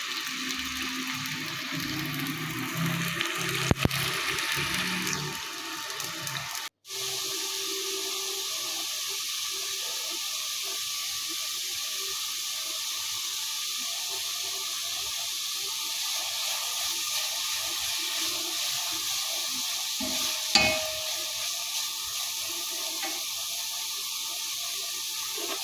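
Rice simmering in a pot as the last of the water cooks off, a steady, even hiss and gentle bubbling that holds constant throughout, with a brief clatter early on and a small knock later.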